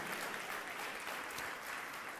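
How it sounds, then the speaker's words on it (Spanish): A Spanish-speaking church congregation gives a hearty round of applause during a service, an even wash of many hands clapping without pause. "Dale un buen aplauso al Señor"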